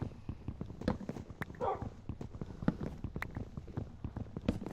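A dog barks in the Minecraft video game, several short barks mixed with rapid clattering footsteps and block-breaking knocks. Played close and moderately loud.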